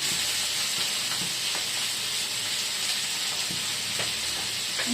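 Onion and tomato sauté in a pan for onion chutney, giving a loud, continuous close hiss of sizzling oil with faint stirring taps and no talking.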